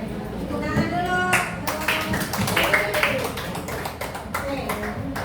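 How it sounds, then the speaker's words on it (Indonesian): Classroom applause from a group of students, a dense patter of clapping hands throughout with children's voices and chatter mixed in, fairly close and steady. "Tepuk tangan dulu."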